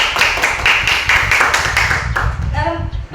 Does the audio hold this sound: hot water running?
no